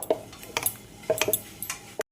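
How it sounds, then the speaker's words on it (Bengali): A husband washes dishes in a home kitchen, with sporadic sharp clinks and clatters of metal utensils and plates, close by and separated by short quiet gaps. "দেখো বাসন মাজছে"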